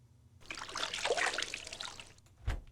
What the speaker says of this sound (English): God, how many water sound effects did they put in this game?